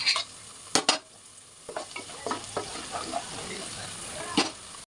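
Onions and cashews frying in a pan for chicken fry piece biryani, with a steady sizzle broken by sharp clinks and scrapes of a spoon stirring, close and fairly loud.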